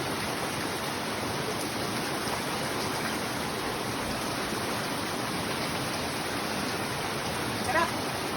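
Spring water flows steadily from tree roots on a mountainside, a continuous close, even rushing wash with no pauses.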